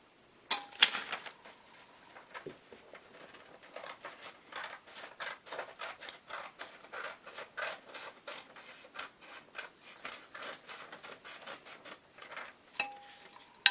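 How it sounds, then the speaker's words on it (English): Scissors snip through paper to cut out a checkerboard, a long run of quiet, rhythmic crisp cuts and rustles close up, with no talking. "doing a nice clean job with the scissors"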